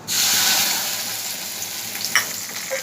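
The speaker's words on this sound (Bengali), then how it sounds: "এবার এই যে মশলাটা বেটে নিয়েছি, মশলাটা দিয়ে দেবো।" Ground spice paste hits hot oil for a Bengali bhola fish curry, a loud sudden sizzle that settles into steady close frying with faint stirring clinks.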